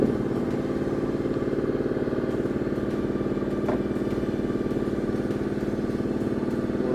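A Honda NC750S DCT motorcycle engine idles steadily nearby while warming up, its low, even rumble pulsing without revving for the whole stretch.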